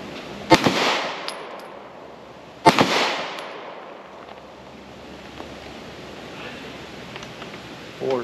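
Two sharp, loud gunshots crack at a shooting range about two seconds apart, each trailing off in a short echoing decay, followed by quiet outdoor background noise and a faint third report at the end.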